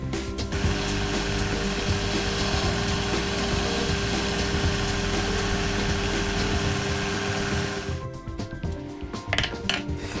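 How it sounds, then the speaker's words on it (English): A small metal lathe turns silver steel blanks, making a loud, continuous whirring and grinding that stops abruptly near the end and gives way to a few faint clinks. "Each of these were then loaded onto the small lathe to clean up the saw cut and give them a light chamfer."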